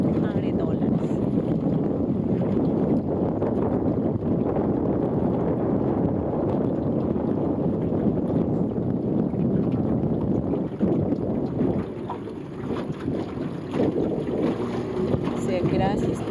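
A rented motorboat cruising across the Bora Bora lagoon, its steady engine and water rush droning loud and continuous with wind buffeting the microphone, easing slightly near the end.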